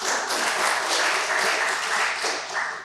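Sustained applause from a seated audience at a Kenyan business talk event, dense steady clapping filling the whole stretch and tapering slightly at the end, with no talk over it.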